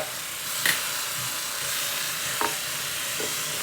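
Steady sizzling of shawarma frying in a hot pan, with a few sharp clinks and scrapes of a utensil against the metal.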